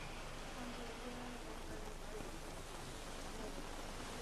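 Heavy, incessant rain in Udupi pours down as a dense, steady hiss of drops on surfaces, loud and unbroken throughout, with no voices.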